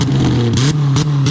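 A car engine revs up close and loud, with short pitch swells rising and falling in quick succession over a steady buzzing drone.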